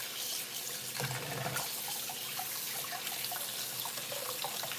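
Tap water runs steadily into a sink while grapes are washed, a continuous close splashing flow with no talking.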